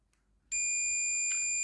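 A multimeter's continuity tester, checking a fuse tap in truck wiring, starts a steady, clear, high-pitched electronic tone after a quiet moment and holds it without a break.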